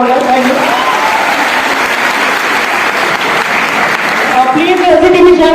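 Loud audience applause fills a motivational seminar hall in Patna, steady and dense throughout, with a voice carrying over the clapping.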